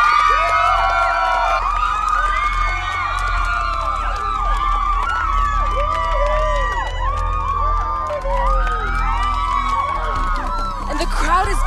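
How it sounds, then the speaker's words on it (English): An excited crowd cheers and shouts as a chancellor arrives, a loud, sustained roar of many voices with whoops and high-pitched yells, and lively babble throughout. "And the crowd is going nuts."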